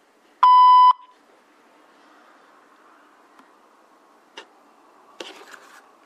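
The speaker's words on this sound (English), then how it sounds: "Please leave a message after the beep." Voicemail beep on a phone line: a single clean, loud electronic tone of about half a second, followed by faint line hiss and a few soft clicks.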